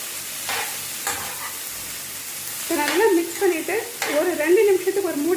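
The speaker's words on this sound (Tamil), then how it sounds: "எல்லாம் சேர்த்து நல்லா மிக்ஸ் பண்ணி விடுங்க மீடியம் ஃப்ளேமில் வச்சுக்கோங்க" Shredded cabbage stir-frying in a pan over a medium flame, with a steady low sizzle and soft scraping as it is mixed, a voice speaking over the second half.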